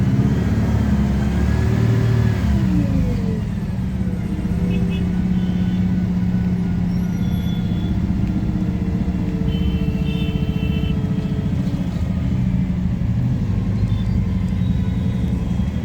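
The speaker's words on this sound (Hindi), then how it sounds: "हाईवे पे लग चुका है बड़ा भारी जाम," Dense highway traffic jam at Rajiv Chowk in Gurugram, with queued cars and motorcycles idling and creeping forward, a steady, loud engine rumble with occasional revving.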